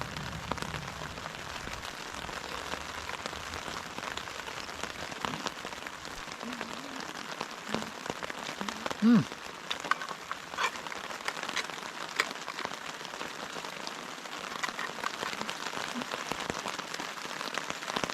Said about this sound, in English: I don't know if you can hear that, but it's the rain started again.